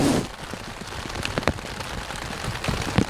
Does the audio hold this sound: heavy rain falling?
yes